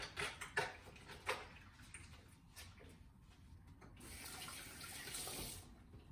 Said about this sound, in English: Let me just wash my hands real quick. There's soapy water in the sink.